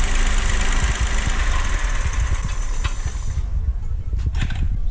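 A Chevrolet Onix engine runs near and loud with a rough idle and knocking pulses beneath a high whine, then the whine drops away, leaving irregular low thumps and vibration.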